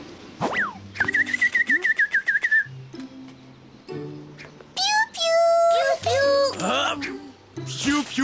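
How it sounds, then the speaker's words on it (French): Small cartoon bird in a children's animated show chirping and whistling in quick trills and rising sweeps, mixed with spoken lines and musical bits, fairly close and lively. "Bonjour, petit oiseau. L'oiseau parle avec Martin."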